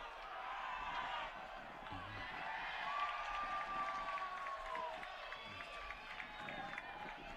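A stadium crowd at a Laredo Heat SC vs West Texas FC soccer match cheers and murmurs steadily at a distance, with a faint rising whistle-like tone midway, a continuous moderate roar.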